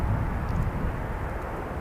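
An airplane arrives at Manchester Airport, its engines a low, steady rumble at moderate distance that continues throughout without any voices.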